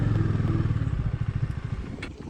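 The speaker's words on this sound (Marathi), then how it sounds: "बाईक लावतो आता" A motorcycle being parked at cottages after a Nubra Valley to Pangong Lake ride in Ladakh, its engine putting in a low, close, rapid idle throb for a couple of seconds with a faint clatter.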